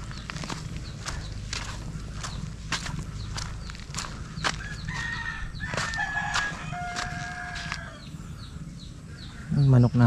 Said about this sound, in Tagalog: Manok natin yung mga darag